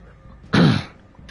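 A single short, harsh cough, close and sudden, standing alone against a quiet background.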